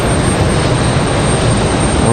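A JetBlue jet airliner arriving from Boston at Raleigh-Durham International Airport makes a steady, loud broadband roar that holds evenly for the whole two seconds.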